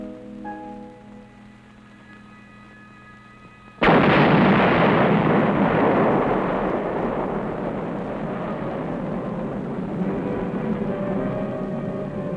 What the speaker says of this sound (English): A nitrate factory smokestack is blown up by an engineer demolition team